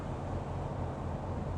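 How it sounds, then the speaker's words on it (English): A forest river rushing, heard through an open car window while driving, a steady broadband roar with no breaks, fairly faint and continuous, no voices. "That's the river."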